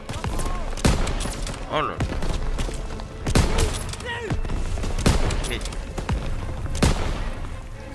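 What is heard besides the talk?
gunfire in the video game Call of Duty WW2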